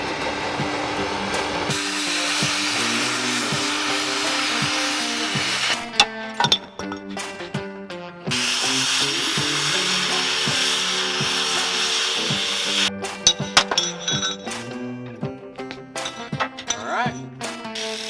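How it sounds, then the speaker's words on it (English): A cutting torch cuts off axle perches. Its roaring hiss runs loud and continuous with scraping and clanking metal mixed in, breaks off briefly twice, then resumes before fading into choppy knocks. "Just gonna get the torch out and get cutting."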